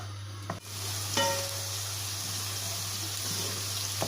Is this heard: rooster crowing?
no